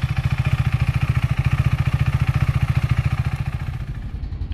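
A KTM 390 Adventure motorcycle engine thumps in a fast, even rhythm close by, then begins to pull away and fade slightly at the end.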